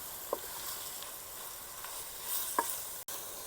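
Pork coated in masala sizzles steadily in a pan as a spoon stirs it, with a few sharp scrapes and clinks of the utensil rising above the continuous hiss.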